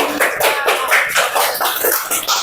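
Loud, close clapping for a small group: a few people beat hands in quick, fairly regular bursts for about two and a half seconds, bright and crisp with no talking over it.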